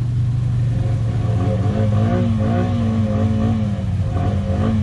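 A mud bog vehicle's engine runs after a restart, a loud, close, steady rumbling idle with slight rev swells throughout, no voices heard.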